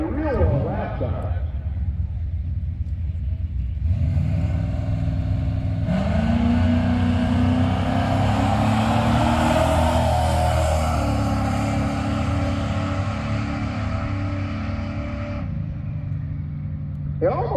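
A 1978 Dodge truck with a 451 cubic inch big block launches in drag racing at the No Name Nationals 2023: a loud, sustained engine roar that climbs in pitch as it pulls away, then cuts off, with voices in the background.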